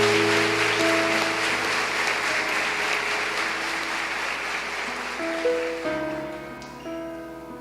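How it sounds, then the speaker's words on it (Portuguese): A church congregation claps together during Mass after a Gospel reading, a steady dense patter that holds for several seconds over sustained keyboard or organ tones, then thins and fades near the end. "Aplauda a palavra de Deus."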